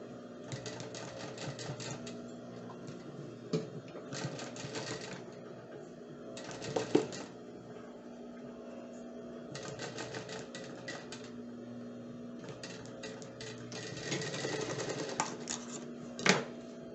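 A sewing machine stitches a child's romper in several rapid chattering runs separated by short pauses, close and moderately quiet against a steady room hum.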